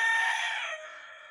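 A rooster crows once, a single drawn-out call heard close and clear that fades off, with no talking.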